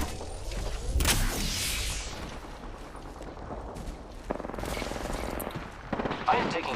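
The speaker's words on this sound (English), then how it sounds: "I am taking fire, friends" Gunfire in a video game battle, with sharp bursts and volleys cracking out at intervals over a busy layer of game noise. Heavier shots land near the start and later in the fight.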